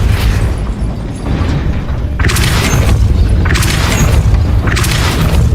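Hogwarts Legacy game audio with a Depulso spell blast: a sustained rumbling boom followed by a series of heavy thudding bursts in a steady rhythm, loud and close, no talking.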